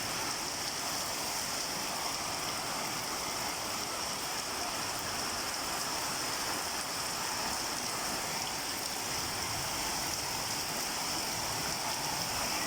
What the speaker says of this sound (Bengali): ব্যাপক পরিমাণ বৃষ্টি হচ্ছে।